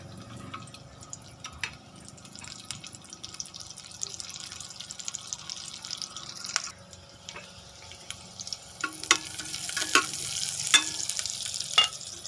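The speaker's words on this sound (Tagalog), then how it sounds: "gisa natin yung ahos sa kabumbay" Garlic and onion sizzle and fry steadily in a pan with occasional stirring clinks, growing louder and busier toward the end; no talking.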